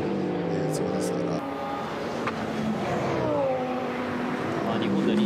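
Race cars roar past at close quarters during the 2014 Nürburgring 24-hour race, with a BMW squeezing through as cars overtake on both sides; loud engine whine rises and shifts steadily while commentators talk over it.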